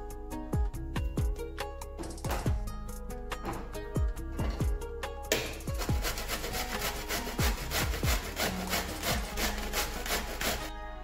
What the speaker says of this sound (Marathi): तर मी दूधही किसून घेते।